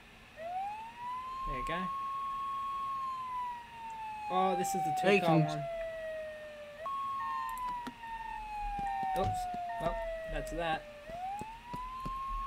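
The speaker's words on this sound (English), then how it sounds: "Spawn code 3, which means lights and siren." Emergency vehicle siren in the Flashing Lights game, a steady wailing tone sweeping slowly up and down across the whole stretch, with people talking over it.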